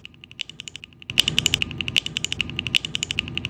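Fast typing on a 40% mechanical keyboard fitted with ABS cyberpunk-style keycaps, close and crisp: a sparse few clacks, then a rapid burst of deep, clacky keystrokes in quick uneven rhythm.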